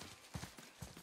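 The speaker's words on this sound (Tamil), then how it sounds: "குதிரை." Horse hooves clip-clop faintly in the God of War video game, a few soft, irregular thuds at a quiet level with no talking.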